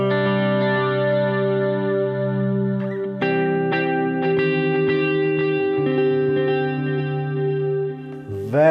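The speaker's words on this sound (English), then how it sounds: "Have a listen to these delays." An electric guitar runs through an Eventide H9 Max harmonizer multi-effects pedal, sustained chords and single notes smeared with lush delay repeats and chorus-like modulation, loud and clean with no talking.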